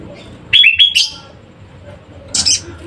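A kemade bird calls while being fed pellet food, giving a couple of sharp high chirps early on and another brief chirp burst near the end over a low background murmur.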